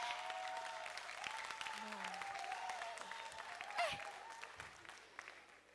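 Festival audience clapping at a comedy show, a scattered, fairly quiet patter of applause that rises briefly with a sharper burst midway, with a voice talking over it.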